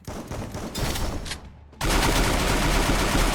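Gunfire in the shooting game Free Fire: rapid bursts of shots crackle at first, drop away briefly, then return as a dense, loud, continuous barrage.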